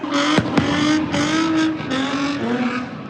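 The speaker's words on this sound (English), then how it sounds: "Engines revving, vehicles spinning, rubber burning, fireworks exploding." Cars at a downtown Los Angeles street takeover rev hard with a steady, close engine roar, broken by a couple of sharp bursts that could be tire squeal, loud and continuous without any voices.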